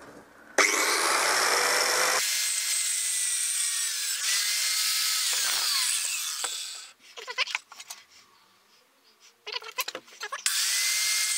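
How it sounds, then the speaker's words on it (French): Angle grinder cutting a Citroën 2CV headlight bracket, a loud sustained high-pitched grinding screech lasting several seconds, then broken scraping bursts and a final loud spurt. "Donc, je vais essayer à la meuleuse."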